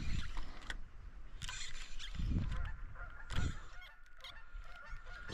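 Several geese honk in bursts on a river in spring, fairly faint and distant, with splashing or rustling in between.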